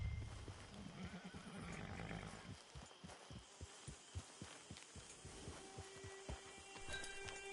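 A horse in the video game Red Dead Redemption 2 whinnies near the start, followed by a run of steady clip-clop hoofbeats, fairly quiet against a faint ambient background.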